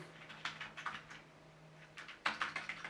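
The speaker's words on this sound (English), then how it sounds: "Alright, let's type hello." Keystrokes on a Logitech MK320 wireless keyboard, close and clear, arriving in two short bursts of quick clicky taps separated by a pause, with no talking.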